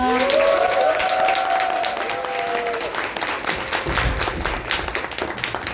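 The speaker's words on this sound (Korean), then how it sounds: "김수엽 리더님께 큰 감사의 박수 보내드립니다" An audience at a talk gives sustained, dense applause that carries on steadily and fades slightly toward the end, with a brief tonal sound near the start.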